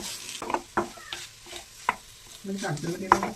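Mashed banana stirring and sautéing in ghee, with intermittent spoon scrapes and soft bursts of sizzle, close and fairly quiet, without any voice.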